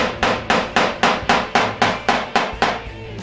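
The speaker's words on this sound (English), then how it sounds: "You probably noticed that the hammer I'm using is a regular wood hammer." A regular wood hammer knocks a dent out of a car door on a Bugeye Sprite under restoration, striking about a dozen sharp, even blows in a steady rhythm, loud and close.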